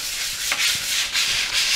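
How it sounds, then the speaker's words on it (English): Rhythmic back-and-forth rasp of sanding on the polyurethane-finished oak surface of a rocking chair, close and fairly loud, each stroke a hissing sweep in steady succession. "Now the sanding I'm doing is really just to clean up the"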